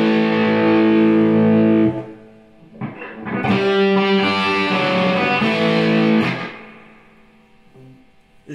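Gibson Les Paul through a Marshall JCM 2000 on the crunch channel with gain near one o'clock, playing loud crunchy chords and a riff with a short dip in between, trailing off softer near the end, no talk.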